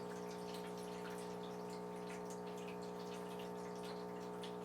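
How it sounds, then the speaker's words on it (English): Water poured into an Aeropress coffee maker, a faint continuous trickle with small droplet ticks over a steady low hum, with no voices. "We're gonna add water up to the 1 mark now"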